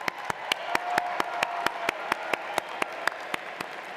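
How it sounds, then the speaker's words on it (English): Steady applause from a crowd at a university commencement ceremony, many hands clapping continuously with a few sharp individual claps standing out, no voices. "Everyone, please join me in applauding these outstanding graduates."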